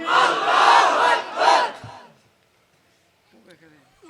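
A large crowd at an Islamic sermon loudly chants takbir in two strong, close bursts, then falls silent, with faint sounds returning near the end.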